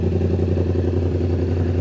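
A Yamaha R7 motorcycle fitted with a cheap eBay aftermarket exhaust idles close by. The low, throaty, steady burble has a rapid even pulse and no talk over it.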